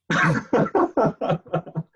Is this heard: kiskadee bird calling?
no